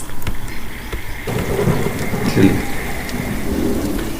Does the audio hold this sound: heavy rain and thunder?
yes